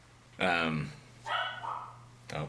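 A pet dog barks inside a house, giving a few loud, close yapping barks with pauses between them, over a low background hum.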